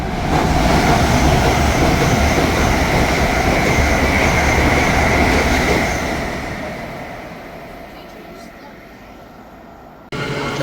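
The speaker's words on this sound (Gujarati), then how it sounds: "તો અમારી ટ્રેન આવી ગઈ છે હવે." A train pulls into a station platform with a loud, broad rumble and rolling wheel noise that eases and fades toward the end, ending in a sharp click.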